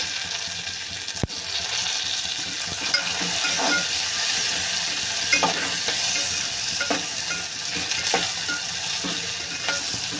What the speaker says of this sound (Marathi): टोमॅटो पण आपल्याला भाजून घ्यायचं आहे तेलामध्ये